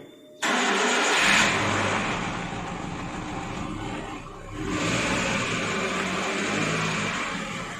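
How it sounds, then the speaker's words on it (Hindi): A Maruti Eeco running on LPG starts up with a sudden burst of engine noise, then settles into a steady, fairly loud idle close by, with a brief dip and swell partway through. "कार को स्टार्ट कर लेना है गाड़ी को, इसके बाद ही माइलेज सेट होगा"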